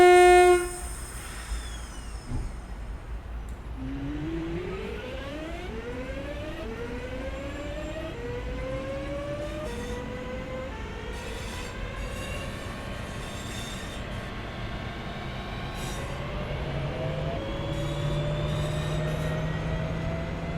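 A Class 323 electric multiple unit in Train Sim World accelerates away, its traction motors whining in rising tones that repeat with each step of speed over a steady rumble of wheels and track, loud and sustained.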